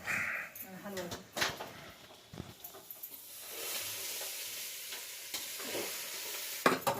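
Green chillies roasting and being stirred in a pan in a village home kitchen, a steady sizzle and hiss with scraping strokes, a voice speaking over it now and then.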